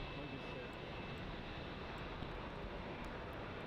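An Air China A350 airliner lined up on the runway at Melbourne Airport gives off a steady, broad engine roar that holds evenly at moderate distance throughout. A voice talks over it.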